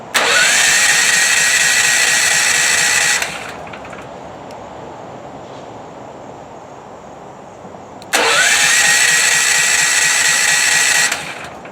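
A home backup generator engine with an aftermarket battery, being started with the choke set, roars loudly at close range, drops to a quieter idle-like hum, then surges back to full loud running.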